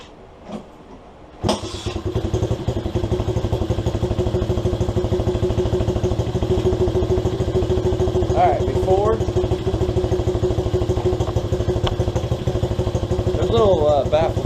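An SSR 125cc dirt bike fitted with small baffle pipes starts after a brief pause and settles into a steady, muffled, rapid-popping idle nearby, with a couple of short revs and faint background clatter.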